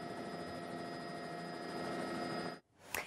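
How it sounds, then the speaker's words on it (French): A helicopter hovers in place over power lines in Finistère, giving a steady, fairly loud rotor and engine drone that holds for about two and a half seconds and then cuts off abruptly. "l'hélicoptère aussi pouvait vraiment être stationnaire"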